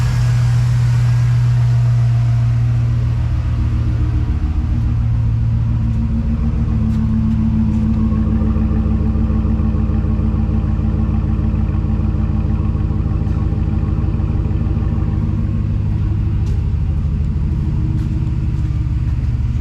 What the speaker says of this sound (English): Got a good sound to her though. Starting to idle down right now.